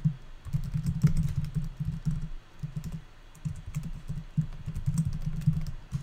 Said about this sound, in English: you used to have to type the whole version number